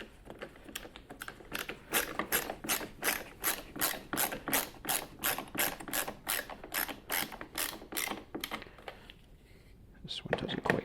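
A ratchet drives pre-threaded screws while skidoo auxiliary LED wide lights are fitted, giving a loud, steady, rapid clicking that runs for several seconds, pauses briefly and then starts again.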